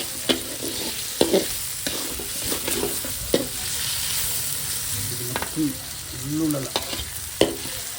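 Onions frying in a pan until golden brown for a Telangana-style goat liver fry: a continuous sizzle with intermittent scraping stirs and clatters of a spoon against the pan, close and moderately loud.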